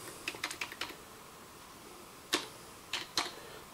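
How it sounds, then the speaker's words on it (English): Keys clatter on a computer keyboard in a quick burst of close, crisp clicks, then after a pause a few more separate keystrokes, with no voices. "got a runaway keyboard."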